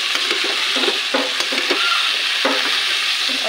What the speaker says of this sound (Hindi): उसके बाद हम डालेंगे अपने शिमला मिर्च